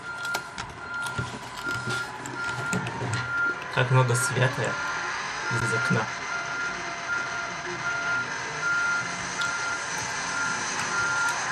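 A reversing alarm on a truck in the racing game Need for Speed: Most Wanted repeats its shrill electronic beep at a regular rhythm, while people talk over it and the game's background noise hums along.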